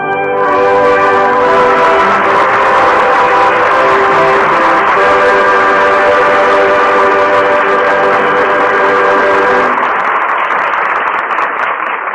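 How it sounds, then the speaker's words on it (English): Radio drama sound effect of a train running, a steady loud rumbling roar with clattering rhythm, bell-like tones and whistle, sustained for about ten seconds before cutting off to a quieter tail, with no talk over it. "Speed on train to the theater."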